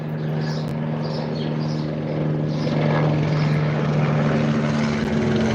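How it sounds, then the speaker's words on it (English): A helicopter flies close overhead, its steady rotor and engine drone loud and continuous throughout and swelling slightly toward the end, with no talk. "Damn, that helicopter close as shit."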